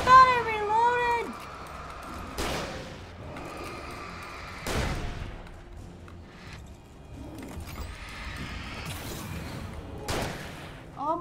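A few sharp, spaced gunshots go off in the video game Alan Wake, loud and separated by quieter gaps, with a voice exclaiming between them.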